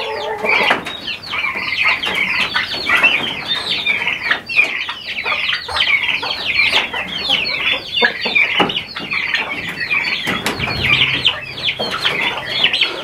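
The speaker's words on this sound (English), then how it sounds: "here's one of the turkeys" A flock of turkeys cluck and chatter constantly on a farm, busy overlapping calls with occasional wing flaps, fairly close by.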